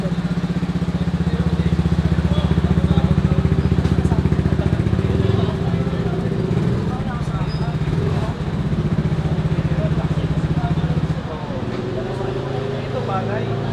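Yamaha NMAX 155 scooter fitted with an Akrapovič full exhaust and a large silencer, idling and blipping with a deep, steady, throbbing exhaust note that rises and settles, heard up close.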